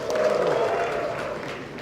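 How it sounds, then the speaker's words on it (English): An audience at an exhibition's official opening claps and cheers in a dense, steady burst that fades slightly toward the end. "Just give yourself a round of applause."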